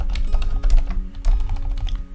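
Typing on a computer keyboard while building a spreadsheet dashboard, a quick, uneven run of close clicking keystrokes over a low background hum, with no voices.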